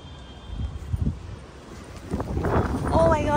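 Wind gusts across a rooftop in gusty, uneven pulses, rising in strength toward the end, with rustling and a voice faintly in the background.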